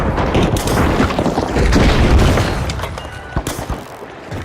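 A frag grenade detonates in a video game: heavy booming blasts with rumbling low-end roll, followed by scattered sharper gunfire-like cracks that taper off toward the end.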